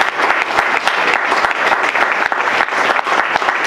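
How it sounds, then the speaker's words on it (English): Audience at an evening lecture event breaking into applause, dense sustained clapping from many hands with sharp individual claps, loud and close for nearly four seconds with no talk. "give her a round of applause"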